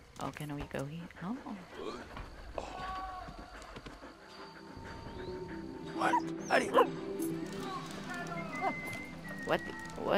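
A dog in the World War I video game Valiant Hearts: The Great War barks and yips in quick bursts, loudest toward the end, while someone talks over the game sound.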